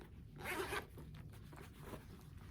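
A zipper on a handbag pocket is pulled open in one quick, close, rasping stroke near the start, followed by faint handling rustles, with no talk.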